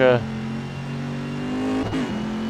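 Race car in a GT racing video game at Barcelona, engine held against the rev limiter in a steady buzzing drone, with a brief burst of a gear change near the end and commentary talk running underneath.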